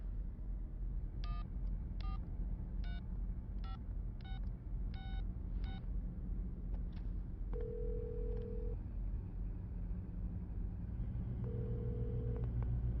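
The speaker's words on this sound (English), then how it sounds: "Dial your number." Telephone keypad tones beep in a quick regular run of about seven digits in a Resident Evil 7 scene, followed by two longer steady tones, all over a constant low rumbling drone.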